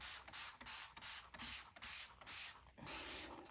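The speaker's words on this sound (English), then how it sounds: "why don't we spray" Repeated short hissing sprays from a spray bottle, about eight quick bursts in an even rhythm, close and fairly loud.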